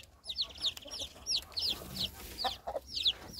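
A hen in a pen with her newly hatched chicks, clucking softly and steadily while the chicks peep in quick, repeated high chirps throughout, all fairly quiet and close.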